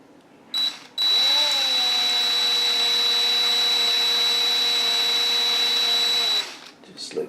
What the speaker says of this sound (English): just have a very, very fine tip drill, and we're just going to open these holes up slightly